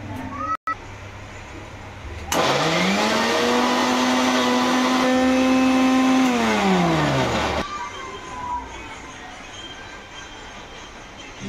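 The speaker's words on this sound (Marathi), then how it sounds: "आता आपण ह्याला छान पैकी असं वाटून घेऊया, ग्राइंड करून घेऊया।" A mixer grinder grinds chilli, garlic and ginger in one loud, close burst of about five seconds, the motor whine rising as it starts and falling away as it stops.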